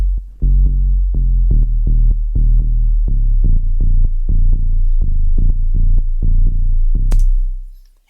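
Quantized sub bass synth line for a house drop, tight evenly timed low notes in a steady repeating pattern, loud and solo, fading out at the end.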